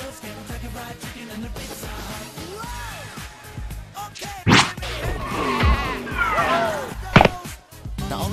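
A cartoon goat from a McDonald's farm animation bleats in wavering cries, mixed with sharp whacks and thumps. The sounds are loud and close, alongside music and effects.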